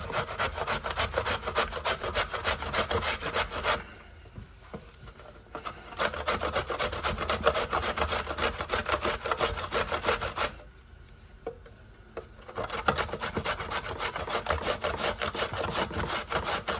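Coconut grated by hand with a steady, rough rasping scrape, continuous strokes in close, loud bursts broken by two short pauses.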